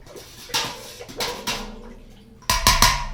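A spoon knocks and swirls in a container of apple cider mixture, giving a few irregular clinks and sloshes, the last cluster louder and quicker, close by with no talking.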